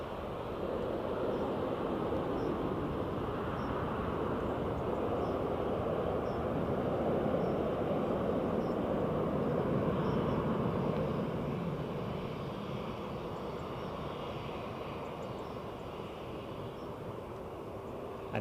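A plane taking off at Edinburgh Airport produces a loud, sustained engine roar that holds steady for most of the stretch and eases slightly toward the end, with no voices.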